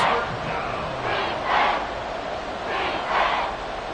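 Stadium crowd in an EA Sports football video game, a tied game late in the fourth quarter: a steady murmur swelling into three loud cheering roars at regular intervals, with no talk over it.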